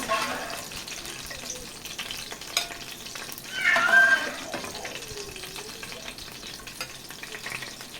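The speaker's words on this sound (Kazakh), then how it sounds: "Шамамен майға аунатып 5 минуттай қуырып аламыз." Meatballs sizzle steadily in hot oil, with a louder burst of spattering midway and faint clinks from a utensil.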